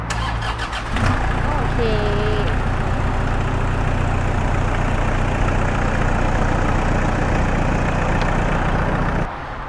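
A Toyota Hilux Vigo Champ 2.5 pickup from 2011 cranks briefly with a whirring starter, catches, and settles into a loud, steady idle close by, with a short spoken word at the start.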